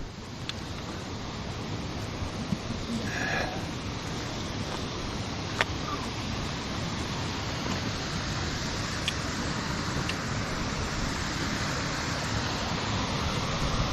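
A waterfall on a creek along the Hemmed In Hollow and Sneeds Creek loop trail gives a steady, unbroken rush of water that fills the whole clip at an even loudness, with no voices.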